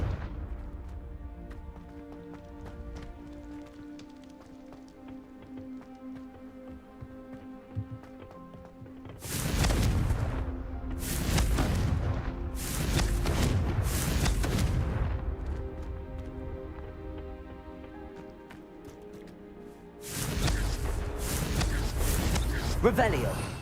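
Confringo blasting spells in Hogwarts Legacy set off several loud explosive bursts, a cluster in the middle followed by another after a quieter stretch, over a faint musical bed with some voice.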